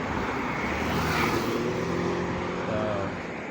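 Steady stream of cars passing on a road outside an old house in North Jersey, a continuous broad traffic rumble and hiss with passing swells, fairly close and alone with no talk.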